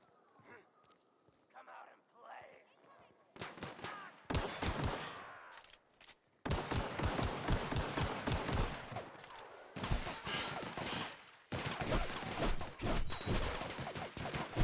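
Gunfire in The Outer Worlds sci-fi shooter. Quiet talk comes first, then loud, rapid bursts of shots and fusillades come close together, broken by brief pauses, with speech mixed in.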